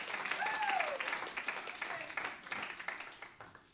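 A church congregation at Smárakirkja applauds together, a bright crowd of clapping hands with a voice briefly calling out over it early on, the clapping strong at first and then thinning and fading toward the end.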